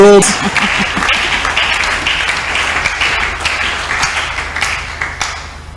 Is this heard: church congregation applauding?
yes